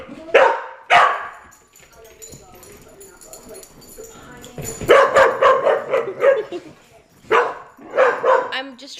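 Dogs barking while playing indoors: sharp close barks come in bursts with short gaps and some yips between, loud and near.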